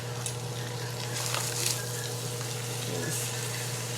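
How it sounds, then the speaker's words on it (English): Cabbage fries in bacon grease in a big pot while it is stirred. A steady close sizzle carries brief scraping rustles from the stirring, and there is no speech. "I'm going to stir this up some so that grease can get through it"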